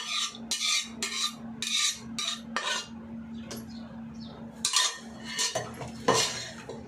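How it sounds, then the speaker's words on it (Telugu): A metal spoon scrapes and clinks against a pot while cooked mutton curry is ladled into a bowl: a series of close, sharp scraping strokes with short pauses between them, over a low steady hum. "శుభ్రంగా గిన్నెలోకి వేసుకుంటాం"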